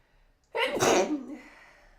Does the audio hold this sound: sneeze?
yes